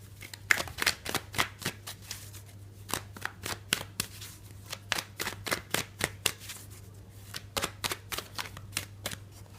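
Tarot cards shuffled by hand, a long run of quick crisp riffling snaps in an uneven rhythm, close and clear over a faint low hum.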